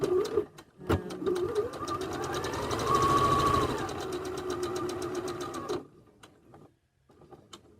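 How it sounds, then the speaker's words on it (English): A sewing machine runs a straight stitch along a quarter-inch seam, its needle chattering rapidly and steadily at close range for about five seconds before stopping. A few soft handling taps follow. "we are just going to be doing obviously a straight stitch and just a 1/4 inch seam"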